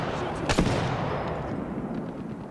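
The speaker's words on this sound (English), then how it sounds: "He's shooting at me." Gunfire in the Apex Legends battle royale game: a sharp close shot burst stands out early, followed by continuous lower rumbling combat noise with faint scattered shots.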